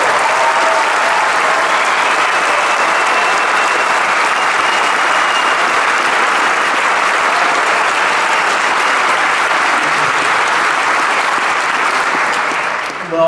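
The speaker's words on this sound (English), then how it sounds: "let's give a big round of applause for Mr. Ticen." Sustained, loud audience applause at a high school a cappella choir and alumni holiday concert, dense clapping filling the hall steadily without pause.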